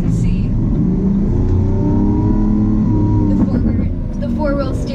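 A Lamborghini Aventador S Coupe engine revving up under acceleration on the road, a loud rising roar with a voice talking over it toward the end.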